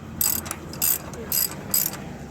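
Ratchet tightening an 18 mm bolt during a driver's side CV axle job on a 2011-2019 Ford Explorer, four quick bursts of sharp clicking from close by, evenly spaced with short pauses between strokes.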